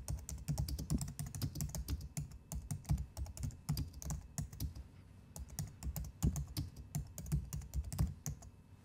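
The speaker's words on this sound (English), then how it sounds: "So you type in your text." Typing text on a computer keyboard: rapid, close, irregular key clicks in bursts with brief pauses, heard alone without voices.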